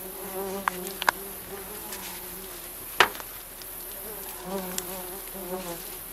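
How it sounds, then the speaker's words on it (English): Stingless native bees swarming around an opened hive during hive splitting, a dense steady buzz of many wings close by, with a few sharp clicks and knocks. "There's a lot of bees."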